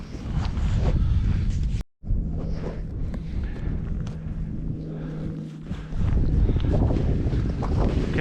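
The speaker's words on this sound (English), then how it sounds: "Much heavier snow than anticipated, and a shifting wind." Wind in a heavy Cairngorms blizzard buffets the microphone as a loud, low rushing roar, steady apart from one brief dropout and a slight lull midway.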